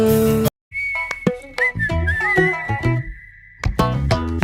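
A whistled melody threads through a Malayalam romantic film song, one long sustained tone with slides over music after an opening burst of instruments, up close and loud.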